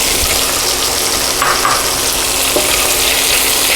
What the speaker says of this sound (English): now that I have some nice color in that pan, I'm going to add these onions